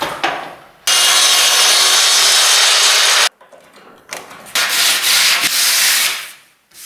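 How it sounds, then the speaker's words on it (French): Power sawing through a kitchen worktop panel, a loud sustained broadband cut running for a few seconds, then a brief pause and a second burst of cutting before it tails off. "Découpe les premiers centimètres."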